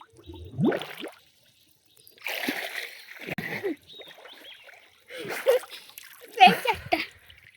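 Splashes of someone diving and moving in open water while gathering mussels, several separate sloshing bursts at close range with quiet gaps between them.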